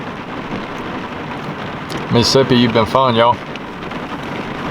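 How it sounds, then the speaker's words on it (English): Steady rain patters on a truck throughout a rainstorm in Mississippi, with someone speaking loudly for a moment in the middle. "We're back to another episode of waiting out a rainstorm in the truck."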